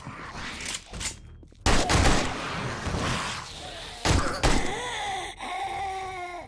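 A few sharp, loud AK rifle shots crack out in 7 Days to Die, separated by quieter stretches, with ringing, tonal game sounds in between.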